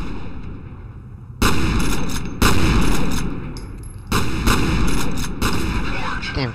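Shotgun blasts in the video game F.E.A.R. come as four loud, heavy booms, a second or so apart, each trailing into a rough rumble over a low electronic hum.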